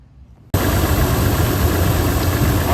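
A 5th-gen Toyota 4Runner engine, fitted with a new alternator pulley and serpentine belt, kicks on after a quiet moment and then runs at a loud, steady idle close to the microphone, with no talk.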